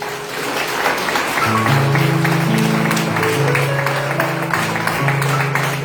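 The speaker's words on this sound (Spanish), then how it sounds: "Dale un aplauso al Señor." A church congregation claps steadily and continuously for the Lord, with sustained low organ or keyboard chords playing underneath.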